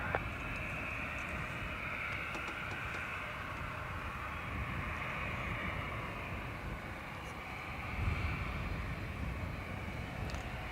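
Aircraft landing on runway 28 left at Dublin Airport, a steady broad jet engine roar heard from a distance, holding at an even level with a slight swell near the end.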